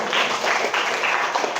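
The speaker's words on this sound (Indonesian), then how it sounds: "Tepuk tangan buat temanmu dong." Children in a classroom clap together for a classmate, a short dense burst of hand claps with a few quiet voices mixed in underneath.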